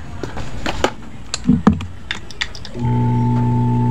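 Hanabishi 20-inch circulator fan switched on after repair of its humming and hard-spinning fault: a few clicks and handling taps, then a steady close motor hum with a clear tonal drone.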